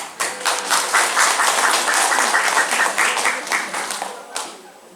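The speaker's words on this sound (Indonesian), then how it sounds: "dengan tepuk tangan" A crowd at a teachers' training session in Kartasura, Indonesia claps in a sustained burst of applause, dense and fairly close, tapering off toward the end with a final few claps.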